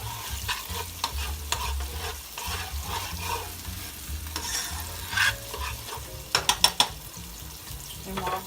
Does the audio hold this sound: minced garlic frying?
yes